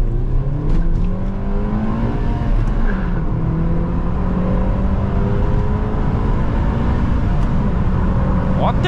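A Suzuki Swift Sport's engine pulls hard under acceleration, a loud, steady drone whose pitch climbs continuously, heard from inside the car with road and wind noise blended in.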